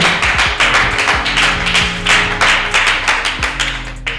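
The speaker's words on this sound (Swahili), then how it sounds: "Makofi kwa ajili yake Feno Boy." Brisk, close applause breaks out in a small studio audience for the artist Pheno Boy during a TV interview, a dense run of hand claps that keeps going steadily without letting up.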